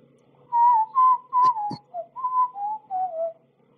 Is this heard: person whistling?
yes